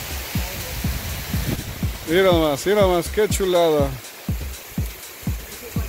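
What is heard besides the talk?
heavy rain falling outdoors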